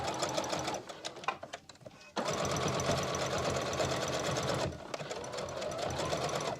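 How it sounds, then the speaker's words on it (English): A sewing machine stitches down the bottom ribbon of a fringe in fast, even runs, stopping briefly for a pause and a backstitch before carrying on close and steady. "begin to sew the bottom ribbon down"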